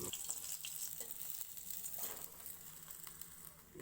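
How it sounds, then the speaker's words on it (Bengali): Turmeric-and-salt rubbed fish pieces frying in hot oil in a kadai, a steady soft sizzle with faint crackles and occasional stirring scrapes, fairly quiet and close. "নুন হলুদ মাখানো মাছটা তেলের মধ্যে দিয়ে সুন্দর করে ভেজে তারপর নামিয়ে নেব"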